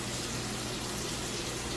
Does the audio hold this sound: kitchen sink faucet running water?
yes